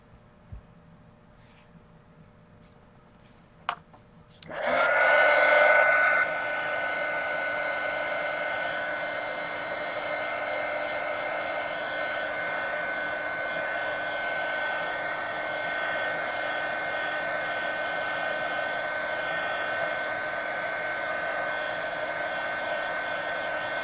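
A hair dryer drying paint on a mixed media coloring page switches on after a few quiet seconds with a click, then runs as a loud, steady whir that continues alone to the end.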